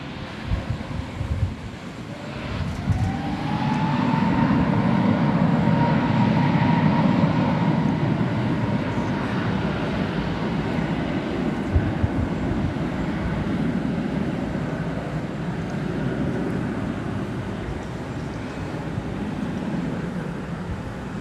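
An American Airlines airliner on the runway at DFW Airport gives off a broad, steady roar mixed with wind noise, swelling early and holding at a distance in the late afternoon.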